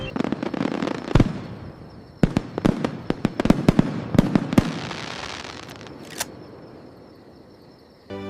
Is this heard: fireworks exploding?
yes